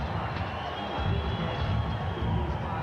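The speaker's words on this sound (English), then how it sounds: "It's not an overwhelming cheer, but it's certainly in Tyson's favor." A boxing arena crowd cheers for Mike Tyson as he enters the ring before facing Norris, a steady, moderate roar of many voices that swells slightly partway through, broad and distant rather than overwhelming.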